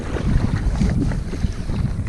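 Steady wind gusting and buffeting the microphone while paddling a Hydro-Force Oceana stand-up paddle board on open water, a constant rushing roar with low rumble and no talk.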